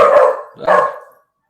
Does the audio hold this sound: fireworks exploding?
no